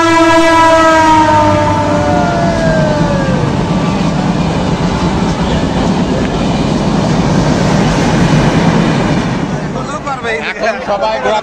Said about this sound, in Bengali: রেল আসছে এখন